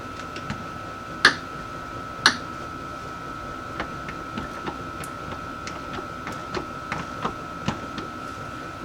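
Shock mounting nuts are snugged up on a Jeep Cherokee XJ, producing faint, sparse metallic clicks and ticks at an uneven pace, with two slightly louder taps early on against a quiet background.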